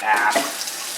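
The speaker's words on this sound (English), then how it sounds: "I'm going to now fill this bad boy up with water." Tap water running into the reservoir of a Keurig coffee maker, a brief close splashing stream that starts strongly and tapers off within a second.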